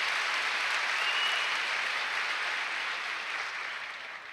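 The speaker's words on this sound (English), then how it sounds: "So a big round of applause for them again" An audience at a school convocation gives the students sustained applause, a broad even wash of clapping heard from a distance, slowly fading toward the end.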